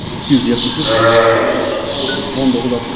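Sheep and goats on a small livestock farm bleat repeatedly at close range, several overlapping calls rising above talking voices.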